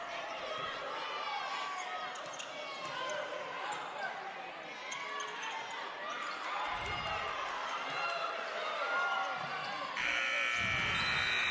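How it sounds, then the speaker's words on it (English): A loud electronic buzzer blares near the end, closing the first quarter of a women's college basketball game in a gym, after crowd noise, squeaking shoes and ball bounces, with an announcer talking throughout. "And miss at the buzzer from Angela Harris."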